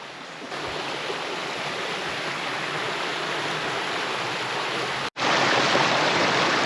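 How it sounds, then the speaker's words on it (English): Cold creek water flows on an Appalachian Trail campsite, a dense, steady rushing close by that carries on unbroken, with one brief dropout near the end. "I'm totally looking forward to cold soaking my feet in that creek here in a little bit"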